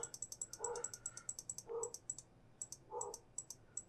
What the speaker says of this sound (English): So you guys can definitely hear the dog right now.